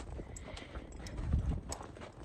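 Horse hooves clopping along at a walk, fairly close, with a soft uneven rhythm of steps over light background noise.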